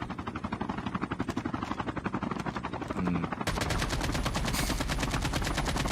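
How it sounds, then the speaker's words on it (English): Gunfire in the mobile video game Call of Duty: Mobile, rapid automatic bursts rattling continuously, then a denser, louder stream of shots, with no talk over it. "what kind of shooting is this?"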